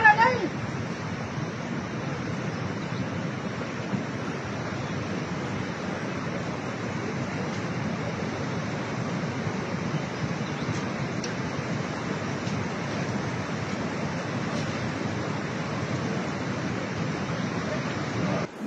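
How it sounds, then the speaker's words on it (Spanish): A swollen, flooding river surges during a mudslide emergency in Apurímac, Peru, giving a steady, loud broadband roar of rushing water that holds constant throughout, with wind buffeting the microphone. "Está aumentando la crecida del río"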